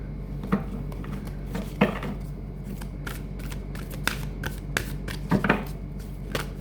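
Tarot cards shuffled and handled by hand, a string of soft papery clicks and riffles, some sharper snaps, over a steady low indoor hum.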